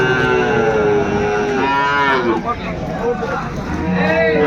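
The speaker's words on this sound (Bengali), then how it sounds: "শাহিওয়াল জাতের ষাঁড় বাচ্চা, কোয়ালিটি ফুল।" Sahiwal bull calves at a cattle market in Dinajpur, with repeated loud, drawn-out moos from nearby animals over a steady market crowd babble and background voices.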